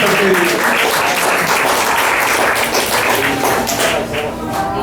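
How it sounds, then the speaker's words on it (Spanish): Church congregation applauding during a Spanish-language sermon, a steady loud wash of clapping with voices mixed in, sustained throughout and easing slightly near the end. "Dale un aplauso a Dios."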